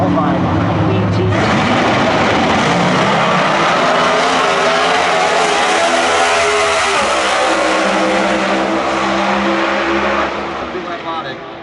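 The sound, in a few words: drag race cars racing at zMAX Dragway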